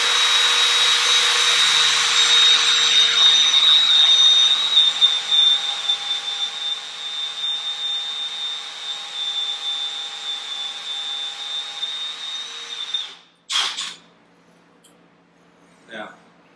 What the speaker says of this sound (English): And ready to drill.